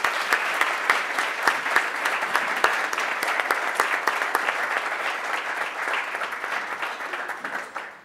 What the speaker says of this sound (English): let's give them a round of applause for being here tonight